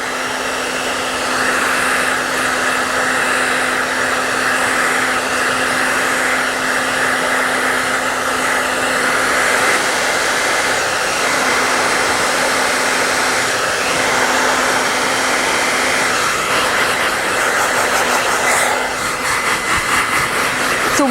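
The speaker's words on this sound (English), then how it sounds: "shake this out with the dryer on hot, high heat" A hair dryer blows steadily on hot, high heat during a hair-cutting session, a loud continuous whooshing roar with a constant motor whine that runs unbroken for the whole stretch.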